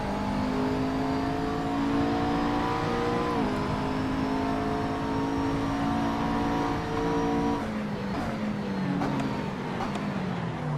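Race car engine in the Assetto Corsa sim racing game, a sustained high whining roar that holds steady, briefly dips and then rises again as the car accelerates, with a shift toward the end.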